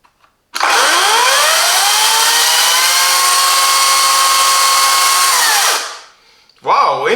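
A Parkside 40V cordless chainsaw (PKSA 40-Li B2) whines up to speed close by and holds a steady high motor drone for about five seconds. It then winds down, and a short voice follows.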